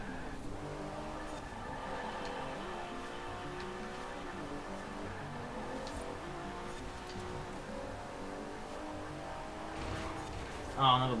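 A Jaguar race car engine in a racing video game drones steadily and shifts pitch through gear changes, with a brief squeal near the end, running under a voice talking.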